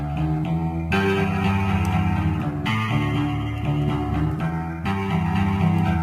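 A Street Fighter voice sample is pitched down into a distorted bass, run through an amp with reverb, and plays a riff as a loud, gritty, sustained line whose chord changes shift every second or two, with no talking.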